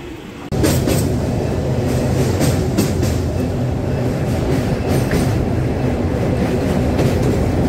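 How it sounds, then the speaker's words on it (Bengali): A passenger train on the Kolkata–Digha special service rolls along near Mecheda station, its loud steady rumble starting abruptly and carrying on with rhythmic clickety-clack of wheels over rail joints and a faint squeal. "আমাদের ট্রেন মেচেদা স্টেশনে এসে পৌঁছে গেছে।"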